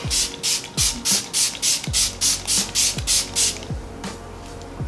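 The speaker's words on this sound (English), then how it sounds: "I am gonna give myself a spray" Rapid bursts of face setting spray hissing in a steady rhythm, about a dozen pumps close by, with a mechanical click on each press.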